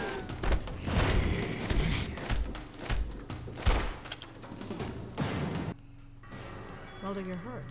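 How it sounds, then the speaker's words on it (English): An allied character fires a gun in The X-Files: Resist or Serve video game, making a rapid series of loud, punchy shots and thuds. They go on for several seconds and briefly overlap with a voice. "So if I have my gun drawn, he'll actually shoot and help out here."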